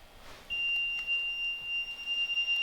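An alarm in an attic gives a steady high-pitched electronic beep that holds on continuously, faint and distant, over quiet room noise.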